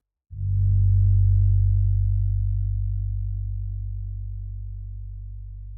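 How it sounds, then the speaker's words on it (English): A single smooth, warm synth bass note from a bass guitar preset swells in gently and sustains, slowly fading, deep and round with no other sounds. "I used the bass guitar warm bass preset. I love the sound of this bass."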